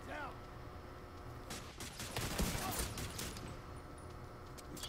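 Gunfire in The Division 2 during the Capitol Building final mission: a dense fusillade of overlapping shots and bursts, loud and continuous through the middle, with a voice talking over the action.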